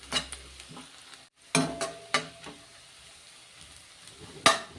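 Sliced onions frying and being stirred in a kadai for mushroom pulao, with a low steady sizzle broken by several sharp scraping stir strokes and a brief pause near the middle.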